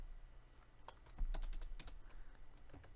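Keys clack on a computer keyboard in a quick, uneven burst of several strokes, close and fairly quiet, with no voices over it.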